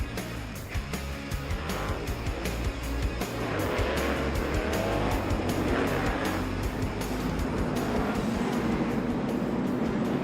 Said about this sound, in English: Rondé Barber, NFL star and now Fox analyst at the wheel of the Toyota Camry XSE pace car.